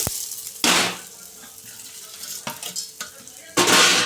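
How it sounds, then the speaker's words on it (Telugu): Vermicelli roasts in ghee in a pan. A soft steady sizzle runs throughout, broken by a few loud scraping bursts of stirring, heard up close with no talking. "ఇప్పుడు ఇదే పెనుములోనే మనము సేమాలు వేసుకున్నాము ఇవిగా నేతిలో వేసుకున్నాం"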